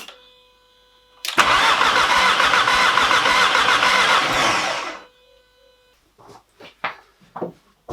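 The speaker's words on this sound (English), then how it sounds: "So what I'm going to do is just crank the engine a couple of times" A Porsche 924 S Turbo engine is cranked on the starter for about four seconds without firing, a loud, steady rhythmic churning close by, followed by a few faint clicks and knocks.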